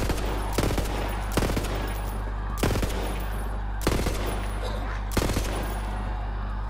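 A sniper rifle in Borderlands 3 fires five loud, sharp shots at a steady, unhurried pace over a constant low hum, with no talking.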